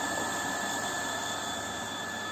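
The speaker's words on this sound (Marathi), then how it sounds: "आता हा पंप चालू केला आहे." An electric water pump runs, lifting water up to a higher tank, with a loud, unbroken mechanical drone and a steady whine that stays constant throughout.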